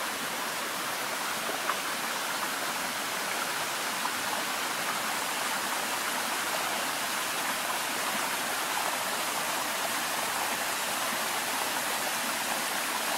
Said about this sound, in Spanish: con un curso de agua exactamente al lado